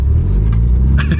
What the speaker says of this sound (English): Here comes the traffic